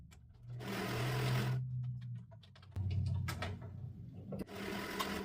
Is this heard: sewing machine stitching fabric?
yes